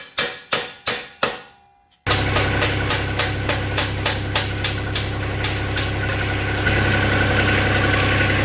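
A Kubota L3200 tractor engine idles steadily with a low, even rumble while its loader is lowered. A few sharp metallic knocks sound in quick succession just before the engine noise comes in.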